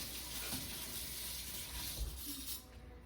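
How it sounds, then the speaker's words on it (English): Surgical instruments rinsed under running tap water at a sink, a steady close gushing stream with slight splashing changes as the tools move through the flow, no voices. "So I'll just rinse them under some water."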